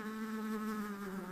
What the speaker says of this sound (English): Imagine a fly buzzing around your room.